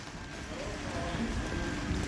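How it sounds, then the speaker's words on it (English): Steady rain falls on an Istanbul street on a wet Saturday afternoon, a constant, fairly faint wash of patter with no talk. "so another 24 hours of constant rain"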